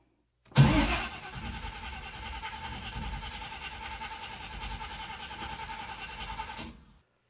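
Big Block Chevy engine being cranked by a Powermaster starter, a sharp start followed by about six seconds of steady, close churning that then cuts off, no talking.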